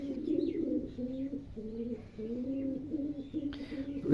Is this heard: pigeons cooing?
yes